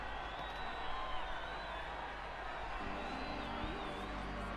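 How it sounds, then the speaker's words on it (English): Faint crowd cheering and whooping in the Spider-Man video game, a distant murmur of voices under a steady background hum, with a speaking voice over it. "What's all the cheering about?"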